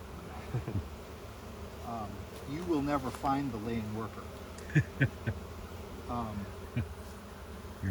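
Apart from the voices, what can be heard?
honeybees buzzing in an opened hive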